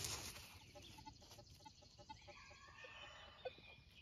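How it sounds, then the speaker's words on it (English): Rooster or similar farm fowl clucking and calling from across a street at a farm, fairly distant and intermittent, over steady outdoor background noise. "You can hear the rooster across the street."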